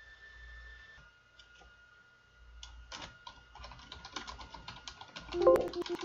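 Typing on a computer keyboard, bursts of quick close clicks that start sparse and grow denser, with a short pause near the start.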